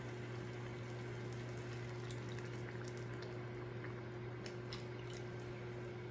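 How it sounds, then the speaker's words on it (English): Water is poured into a pot of jambalaya with crab and chicken, a faint steady splashing and bubbling heard close up beneath a low constant hum, with no talking. "So I'm going to add 2 cups here of water."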